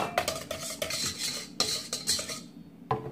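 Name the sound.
mixing red velvet batter with cocoa powder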